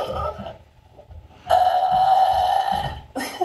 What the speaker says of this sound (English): Well, give us a burp.